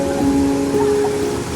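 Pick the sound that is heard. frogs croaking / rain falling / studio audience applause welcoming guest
rain falling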